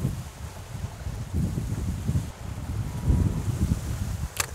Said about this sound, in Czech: Ten vítr mi leze na nervy.